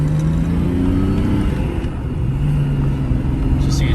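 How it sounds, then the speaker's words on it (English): A 1988 Jaguar XJS TWR tribute with a five-speed manual gearbox pulls away in first gear, its engine a steady low rumble heard from inside the cabin, loud and continuous with no talk. "Okay, so here we have a video of the car running."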